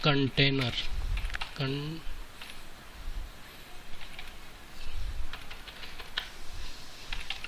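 Rapid clicking keystrokes on a computer keyboard as HTML code is typed, light and close, with a voice talking at the start and the tapping continuing mostly on its own.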